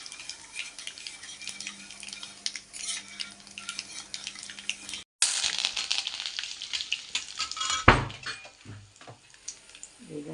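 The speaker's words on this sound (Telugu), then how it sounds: "మినపప్పు శనగపప్పు జీలకర్ర రెండు ఎండుమిరపకాయలు వేసుకోవాలి చక్కగా వేగనిద్దాం" Urad dal, chana dal, cumin and two dry red chillies fry in hot oil as tempering for a bitter gourd and onion dish, making a bright, continuous close sizzle that surges after a brief gap, with a single clatter near the end.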